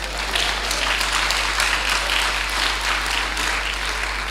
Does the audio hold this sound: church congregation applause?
yes